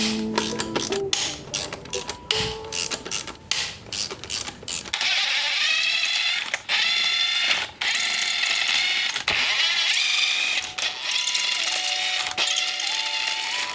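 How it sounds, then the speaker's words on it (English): A hand ratchet cracks loose 12mm bolts on a Mazdaspeed 3 transmission during a rebuild. The quick clicking runs in short bursts at first, then turns into a longer, steadier ratcheting, close up with no voices. "They're all 12mm bolts. So we're gonna go ahead and get those cracked loose."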